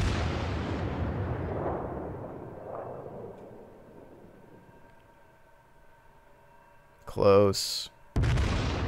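Rear warship guns fire in World of Warships, a loud boom that decays into a long fading rumble. A sharp sweeping burst and another heavy blast follow near the end, and a voice speaks briefly.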